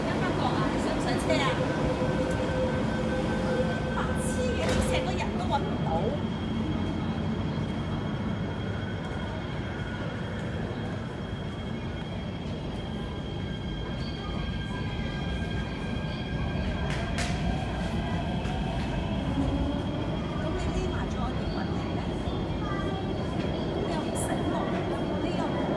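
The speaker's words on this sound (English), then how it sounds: "the train just drove in" An MTR train pulls into Yau Tong Station in Hong Kong with a sustained loud rumble and rolling roar filling the platform. Faint tonal squeals and platform announcements sit underneath.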